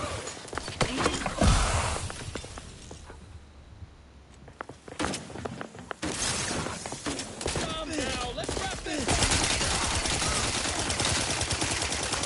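Automatic weapon fire in the video game Outer Worlds 2, heard as rapid bursts of shots that come and go amid other game sounds, moderately loud.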